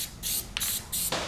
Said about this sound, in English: I guess I'm gonna spray glue it on so I don't get glue everywhere.